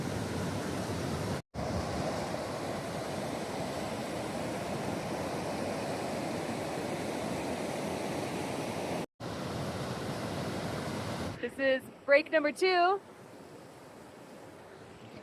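Water rushes steadily down a natural rock water slide along a mountain trail, a loud continuous roar for most of the stretch before cutting away to a brief spoken line over quieter background.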